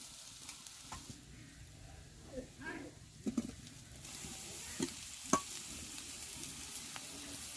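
Onion and grated carrot fry together in a pan, a faint, soft sizzle with occasional scraping stirs that grows into a steadier hiss partway through, heard close but quietly.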